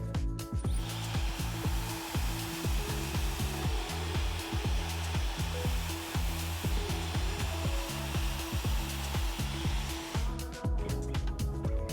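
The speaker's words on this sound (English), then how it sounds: "I'm going to point my blow dryer toward her face" A blow dryer runs at close range while a brush works through a client's bangs, a loud steady whir broken by rhythmic brushing strokes and rubbing, with no talk.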